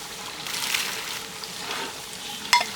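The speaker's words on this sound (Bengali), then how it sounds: "ডালটা ফুটানো তো, দেন ডালের ভিতর পেঁয়াজটা রসুনটা দিয়ে দিলাম" Onion and garlic go into a big pot of boiling lentil dal, giving a soft, steady bubbling sizzle with light splashy stirring, ending in a brief sharp clatter.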